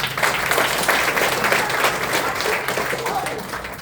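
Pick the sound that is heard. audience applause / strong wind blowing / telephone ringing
audience applause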